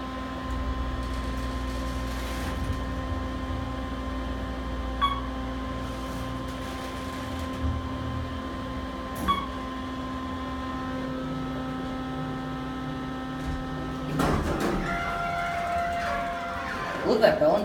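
Otis Series 1 hydraulic elevator at an extended-stay hotel in Indianapolis ascending: a steady low motor hum and drone with faint clicks, ending in louder rattling and an arrival tone near the end.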